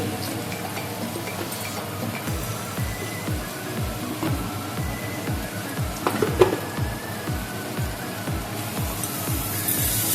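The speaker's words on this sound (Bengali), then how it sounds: "মশলাটাকে আমি খুব ভালো করে কষিয়ে নেব।" Spice masala sizzles steadily while frying in a pan for aloo dum, with a continuous crackle and a regular rhythm of scraping stirs throughout.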